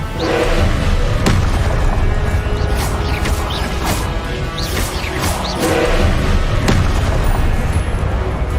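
Confringo blasting spells fired in Hogwarts Legacy give a dense run of loud booming explosions and crashes, several sharp impacts standing out over a constant roaring game soundscape.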